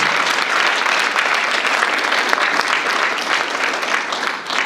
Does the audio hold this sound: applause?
yes